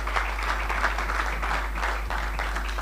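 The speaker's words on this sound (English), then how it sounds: "Another round of applause, please." Applause from an indoor audience at a church seminar after a talk, steady dense clapping that fills the whole stretch with no gaps.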